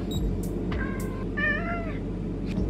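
A pet cat meows at home in the morning, giving a few distinct, close meows with short pauses between them over a low background hum.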